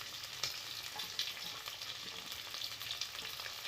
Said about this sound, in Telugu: పచ్చివాసన అంతా పోయేలాగా వేయించుకోవాలండి మనం